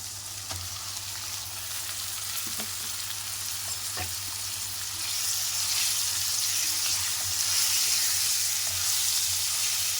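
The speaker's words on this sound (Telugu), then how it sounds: "మూత పెట్టుకొని చికెన్ మంచిగా ఉడికే వరకు ఫ్రై అయ్యే వరకు ఫ్రై చేసుకోవాలండి" Chicken frying with gongura in a pan gives a steady, dense sizzle that swells slightly louder partway through, with a few faint clicks of a utensil and a low kitchen hum underneath.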